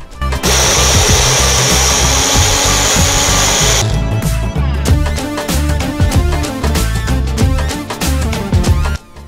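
A kitchen blender grinds tomato, ginger, garlic, green chilli and onion into a paste, a loud, close whirring motor that steadies and then turns choppy and pulsing as the contents churn, with no talk.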